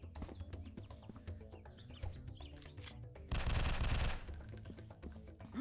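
Pistol shots in a Unity3D video game under development pop as sharp, scattered reports, then a dense, noisy burst of fire lasting under a second before the shots thin out again.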